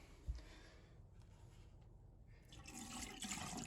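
Straight antifreeze poured into a drain trap at a seasonal cottage being winterized, a steady gurgling liquid flow that runs throughout and grows somewhat fuller toward the end.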